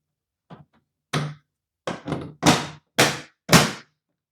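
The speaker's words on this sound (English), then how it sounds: "Put the lid back on by snapping it back down." Plastic lid of an xTool apparel printer's ink tank pressed shut, a short series of dull snapping thunks, close and distinct, growing firmer over about three seconds in a quiet room.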